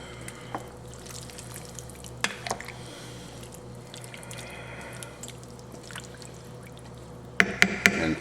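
Frozen peas are stirred into a pot of vegetable beef soup with leftover pot roast, giving soft wet squishing and sloshing close by, with a few sharper clinks and splashes near the end and no voices.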